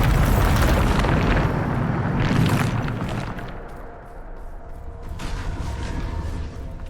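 Bombarda spell blast in the video game Hogwarts Legacy, a loud rumbling boom that swells at once and then rolls on as a long crackling, debris-laden roar that slowly eases off.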